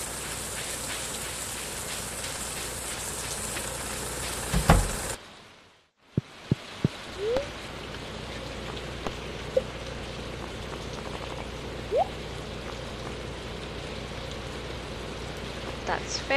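Steady rainfall from the Stardew Valley game, an even hiss of rain on surfaces. It cuts out briefly midway, then resumes under scattered soft clicks and blips from the game.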